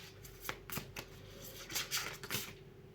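Tarot cards shuffled by hand, a quick run of soft papery riffles and slaps repeating in bursts, close and fairly quiet, with no talking.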